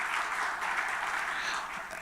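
Continuous applause from a conference audience at a KPMG-UNDP post-budget forum in Ghana, many hands clapping in a thick, even roar that stays steady across the short stretch.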